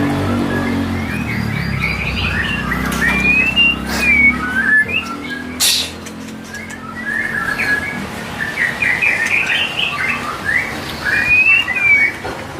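A white-rumped shama (murai) songbird sings loud and close in repeated bright whistled phrases and chirps, with a steady background hiss and a brief knock partway through; no talking.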